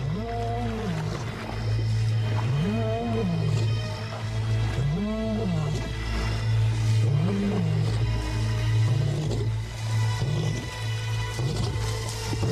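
A male lion roars repeatedly in the wild, with deep rising-and-falling calls that come in a steady series, loud and close, tapering toward the end.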